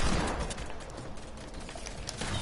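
Rapid gunfire crackles continuously through a video game match, dense bursts and shots layered without pause over a steady noisy background.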